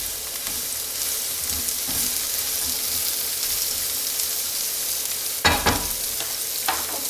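Garlic sizzles steadily in a hot pan as a continuous broadband hiss, with a couple of brief louder clatters near the end, no voices.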